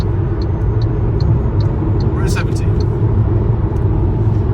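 An MG ZS EV long-range SE electric car accelerating on the road, a steady loud broadband road and motor rumble throughout with a brief higher whine, under a voice talking.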